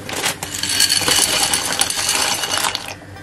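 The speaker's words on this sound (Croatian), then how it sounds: "A sipali smo 200 g makarona i kuvat ćemo 5 minuta." About 200 g of dry macaroni is poured into a cooking pot, producing a loud, dense hard rattling clatter that runs continuously for a few seconds before stopping abruptly.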